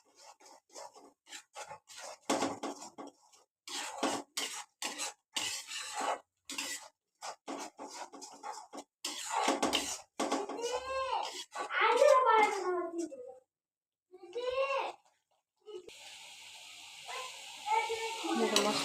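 Chili powder, cumin and other spices stirred and sizzling in a hot pan, with a steady fry under frequent nearby talk and a voice.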